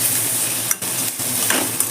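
Onions and green chillies frying in butter in a pan, a steady close sizzle with a few stirring scrapes of a utensil.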